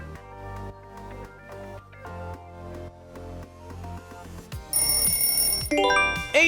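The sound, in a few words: Asus smartphone ringtone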